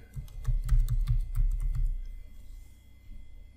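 Quick typing on a computer keyboard, a short burst of about a dozen close, crisp key clicks in rapid rhythm that stops abruptly and leaves quiet room tone.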